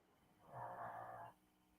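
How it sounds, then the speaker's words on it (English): A dog gives a single short, low snore-like snort lasting under a second, close and fairly quiet against a faint background. "I have one dog that we always laugh at that like does these like loud snores of agreement"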